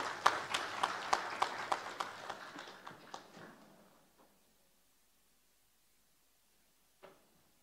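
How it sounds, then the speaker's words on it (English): Audience applause at an event, a short burst of fairly faint claps that quickly thins out and stops, followed by silence and a single late clap. "So big round of applause for them"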